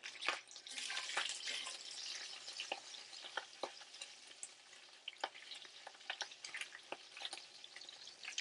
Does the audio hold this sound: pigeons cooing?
no